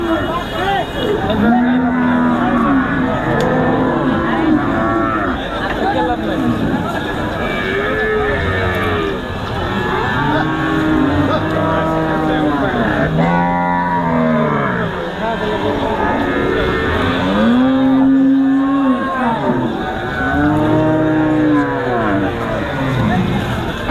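Cows at the Hazratpur cattle market in Bangladesh, where heifers are sold, moo again and again, loud and drawn out, over the steady babble of a busy crowd with people talking throughout.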